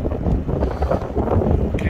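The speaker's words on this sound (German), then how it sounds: "der Wind hier ist schon extrem" Strong wind buffets the microphone during a bike ride near Kirchhofen, a loud, continuous low rumble with gusty swells filling the whole two seconds.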